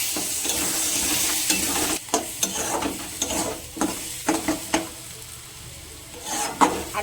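Boiled eggs frying in oil in a pan for egg tadka, a steady sizzle broken by repeated sharp scrapes and knocks of a spatula stirring them.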